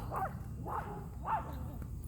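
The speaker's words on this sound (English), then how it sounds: "So my little poodle dog out here." A small poodle yipping outdoors: three short, fairly faint barks spaced about half a second apart over a low background rumble.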